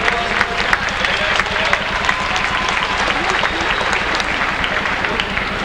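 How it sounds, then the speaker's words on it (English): An audience applauds at a dolphin demonstration, with steady, dense clapping that holds at an even, fairly loud level throughout. "How about a round of applause?"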